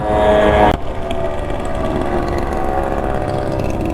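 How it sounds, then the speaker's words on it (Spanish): A loud engine roar dominates throughout, a motorcycle revving nearby with a brief sharper burst at the start, then a steady, harsh drone. "Vaya ruido mete la moto esa."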